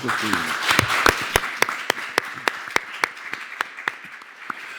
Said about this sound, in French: Applaudissements pour Yannick Borne.